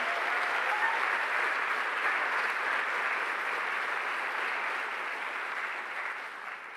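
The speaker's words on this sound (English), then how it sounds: "continue your applause for our new leader" A large convocation audience applauds a new university president, steady broadband clapping that carries on throughout and fades slightly toward the end, with no voices over it.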